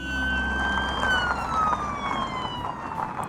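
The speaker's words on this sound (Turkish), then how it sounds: "Evet, bu bir polis arabası." A police car siren wails loud and near, its tone sliding smoothly through a long sweep with light traffic noise beneath and no talk.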